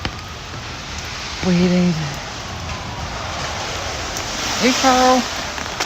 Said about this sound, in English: just the rain is making the connection terrible.